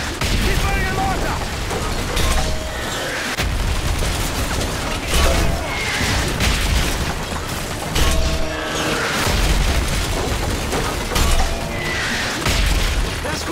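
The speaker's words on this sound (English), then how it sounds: "If it moves, put a mortar shell on it." Mortar shells bursting over a village in the Modern Warfare 3 campaign, loud repeated booms roughly every one to two seconds over a constant roar of battle noise and distant gunfire.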